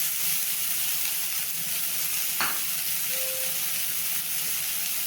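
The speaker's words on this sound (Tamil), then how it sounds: "இப்போ அதே சட்டியில் வெங்காயம் போட்டுக்கலாம்" Chopped onions sizzle and hiss steadily in a hot pan for radish chutney, a constant close frying sound with a brief clink of a utensil partway through.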